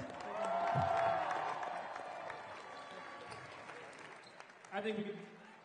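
Crowd applause and cheering fill a basketball game between priests and seminarians, swelling loudly at first, then thinning into scattered clapping with a short burst of voices near the end.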